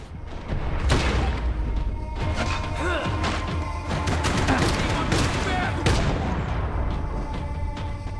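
Dense gunfire from Max Payne 3 runs throughout, with rapid shots, crashes and impacts layered under heavy action noise. A loud burst comes early and the intensity stays constant and close to the end.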